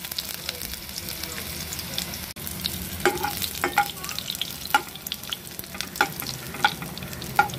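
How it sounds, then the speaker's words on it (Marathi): Crushed garlic cloves dropped into hot oil, a constant close sizzle broken by sharp spattering pops and scrapes of stirring that grow more frequent over time. "आता ह्या ठेचलेल्या 4-5 लसणाच्या पाकळ्या आहेत त्या तेलात टाकून घेऊयात।"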